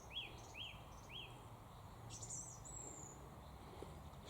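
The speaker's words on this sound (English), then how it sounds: "Listen to the birdsong." In the Yorkshire Dales countryside, a few short bird chirps repeat, followed by a higher trill, all faint and distant over a quiet outdoor background hush.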